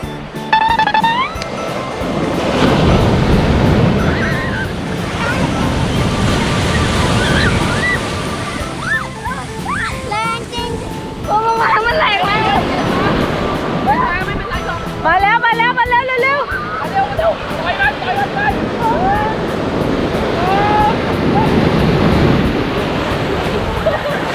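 Strong ocean waves surge and wash continuously onto a Phuket beach, with a roaring surf, sloshing water and gusts of wind on the microphone, under a steady stream of people talking nearby.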